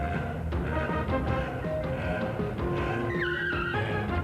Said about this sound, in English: if 2 cars can't pull a zip apart, that's how strong a zip is